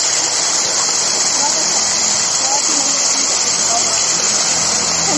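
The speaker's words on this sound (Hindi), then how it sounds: "तो देखिए झरना क्या वो देखो" Steady, loud roar of a waterfall fills the whole stretch, a constant broadband rush of falling water with no breaks, heard close by outdoors.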